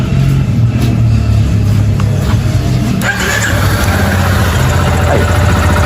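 A repaired 2022 Yamaha Lander motorcycle engine idles steadily with a loud, even low rumble and no knocking, close by and constant throughout, with no talk.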